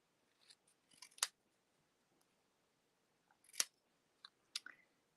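Scissors snip through stamped white cardstock, cutting around printed words for a ladybug greeting card; a few quiet, close snips come in small bursts separated by pauses.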